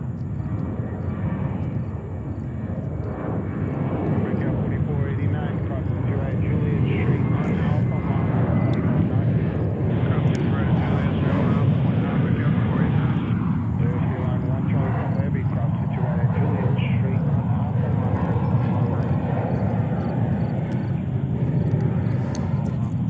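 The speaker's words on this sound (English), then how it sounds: "777-300 taking off, and they are heading to Ottawa" A Garuda Indonesia Boeing 777-300 jet takes off at JFK airport in New York, a steady loud roar of jet engines that builds and holds, with a radio voice talking over it.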